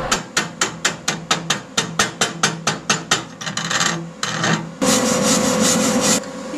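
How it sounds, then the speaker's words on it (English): Slag is chipped off a flux-core MIG weld made with a Titanium Vulcan 120 volt welder: a steady run of sharp, close scraping strikes, then a burst of harsher, continuous scraping and brushing. "we'll chip off some of the slag."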